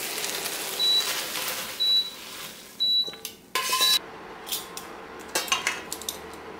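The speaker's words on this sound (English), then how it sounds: "Mix well to combine." Beef and sauce are stirred together in a bowl, with repeated clinks and scrapes of a utensil against the bowl and a few sharper clatters over faint kitchen background.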